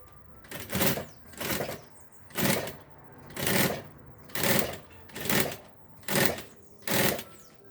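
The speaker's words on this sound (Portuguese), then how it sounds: "Vou costurando." A sewing machine stitches a bag in eight steady bursts, each run of whirring needle strokes lasting about half a second with short pauses between, close and loud with no voices.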